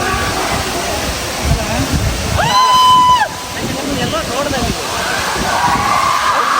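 Koodlu Theertha waterfall sends down a steady, forceful roar of falling water, heard close up with a brief whistling tone partway through and voices mixed into the rush.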